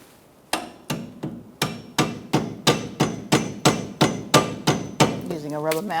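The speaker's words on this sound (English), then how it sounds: "Using a rubber mallet, push it through" A rubber mallet strikes a bolt through a strut on a 2004-2009 Mazda 3 front suspension, about a dozen loud, evenly spaced blows in quick succession, then a brief ringing scrape.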